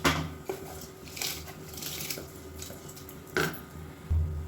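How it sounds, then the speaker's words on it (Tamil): Soaked rice being added to a pot of boiling water, heard as close, light clinks and scrapes of a utensil against the pot over a constant bubbling hiss, with a sharper knock near the end. "ஊற வச்சுருந்த அரிசி 20 நிமிஷம் நல்லா ஊறிடுச்சு. அதை சேர்த்துக்கலாம்."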